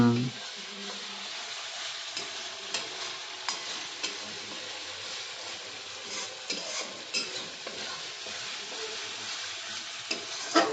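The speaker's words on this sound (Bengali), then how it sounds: "ভালো করে কষে নিই" Spices sautéed in a pan for Bengali doi katla, a steady frying sizzle with repeated scrapes and clinks of a spatula stirring against the pan, close and continuous.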